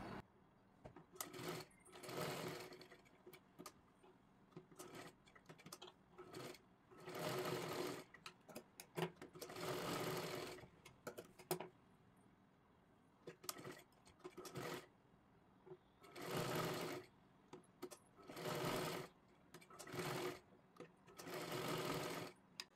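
A sewing machine stitches a kurti seam in repeated bursts of rapid whirring, close and clear, with quiet pauses between the runs.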